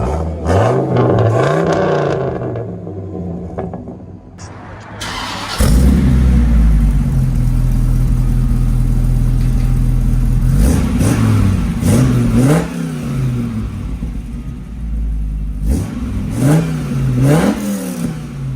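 American V10 pickup truck engine with a standard transmission revving hard through its exhaust, loud deep roar with repeated rising and falling revs over about eighteen seconds, no talk.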